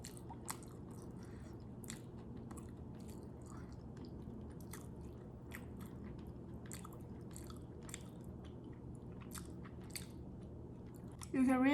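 Soft, wet chewing and bites come close up as steamed meat patty with egg is eaten, faint squishy mouth sounds over a low room hum, with a brief louder noise at the very end.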